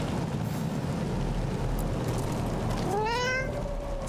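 A cat in Dragon Age: The Veilguard lets out a single rising meow near the end, heard clearly over a steady ambient game background.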